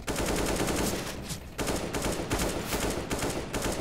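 AK rifle fire in CS:GO, loud rapid automatic bursts of closely spaced shots nearly filling the clip, with a brief pause before firing resumes, no talking.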